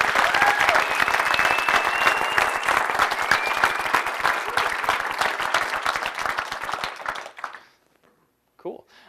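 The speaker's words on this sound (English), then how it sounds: "So why don't you guys give them a round of applause for making this happen." An audience at a talk claps in sustained, dense applause that stays loud for several seconds, then tapers off and stops, leaving near silence with a brief faint voice at the end.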